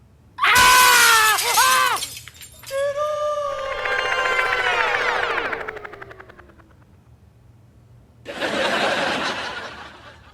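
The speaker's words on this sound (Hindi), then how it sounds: "चीखे क्यों?" A person screams loudly in a kitchen in a comedy drama, a sharp shriek followed by a long wavering cry that fades, then another burst of shrill voice near the end.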